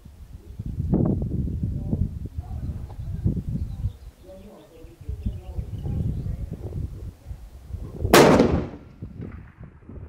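Scoped long-range rifle firing at a target range, a single sharp loud report near the end, preceded by people talking.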